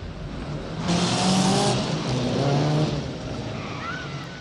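Mini Cooper cars racing in an action sequence from the film The Italian Job, engines revving and tyres squealing under a swelling music score, loud and close throughout.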